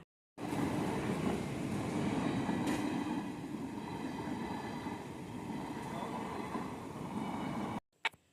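A train rolls past a railway crossing, a loud continuous rumble with faint wheel squeal that starts abruptly and runs for about seven seconds before cutting off.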